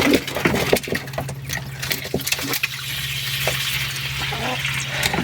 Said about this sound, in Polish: Tutaj to na wodę im wstawię i wlejemy im wodę jak jest